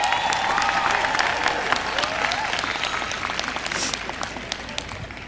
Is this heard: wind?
no